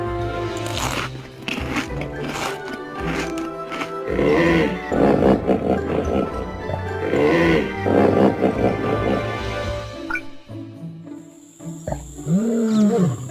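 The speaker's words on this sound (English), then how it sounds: "A lion." A lion roars in a series of deep, heavy bellows that swell and fade, several close and loud, ending with low grunting calls.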